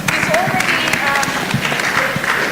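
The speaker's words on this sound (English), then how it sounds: "Let's give him a very big round of applause." An audience at a national exhibition event claps in a dense, steady patter for a few seconds, with faint voices mixed in under the clapping.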